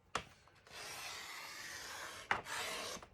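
A paper trimmer cuts paper in two quiet, close scraping strokes, with a soft rasping slide between them.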